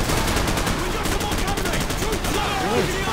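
Rapid bursts of automatic gunfire from Call of Duty 4: Modern Warfare during a vehicle chase sequence, loud and continuous throughout, with a faint voice underneath.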